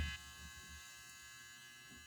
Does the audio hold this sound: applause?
no